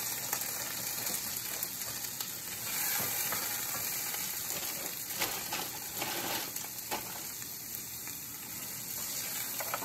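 Vegetables sizzle in a Kung Pao chicken stir fry, a steady close crackling fry with scattered ticks and pops from stirring, running evenly throughout without talk.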